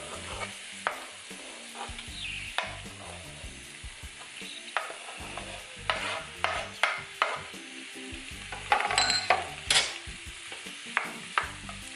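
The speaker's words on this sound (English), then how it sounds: "So I'm going to add the tomatoes now." Tomatoes sizzle and fry in a pan for butter chicken while being stirred, with steady frying hiss punctuated by repeated scraping and clinking spoon strokes, close and moderately loud, with no talking.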